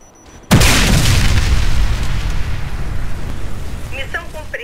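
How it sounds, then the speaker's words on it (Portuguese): A bomb detonates in the online shooter CrossFire with a sudden loud, close boom. A long rumbling roar follows and slowly fades, and a voice-like game cue enters near the end. "Missão cumprida. Bomba detonada."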